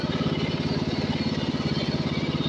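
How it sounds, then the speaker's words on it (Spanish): A tractor engine runs steadily on a farm job clearing pruning debris, a close, loud, even low chugging throb with a regular pulsing rhythm and no voices. "Con el tractor."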